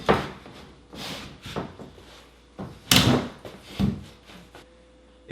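An interior door slab is dry fitted into a snug frame, giving a series of knocks, bumps and wooden rubbing thuds at irregular intervals, close by, with one sharper knock midway.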